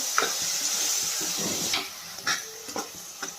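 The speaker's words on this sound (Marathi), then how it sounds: "त्याच्यामुळं कांद्यामध्येच थोडंसं फ्राय करून घ्यायचं आहे याला लगेच हे टोमॅटो आलं लसूण याचं वाटण टाकणार आहे छान मिक्स करून घ्यायचं" Onion frying in a pan with tomato, ginger and garlic paste stirred in, giving a steady close sizzle broken by short scraping stirs of a spoon.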